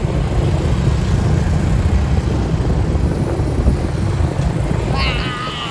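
Motorboat engine droning steadily throughout, loud and close, a broad continuous rumble with a brief higher whine near the end.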